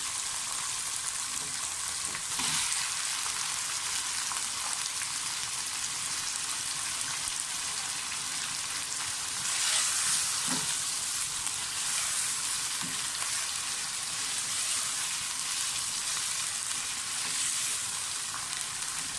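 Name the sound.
chicken frying in a pan for green masala chicken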